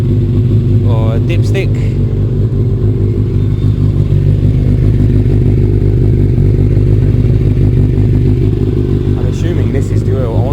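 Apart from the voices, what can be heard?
BMW F650 motorcycle engine idling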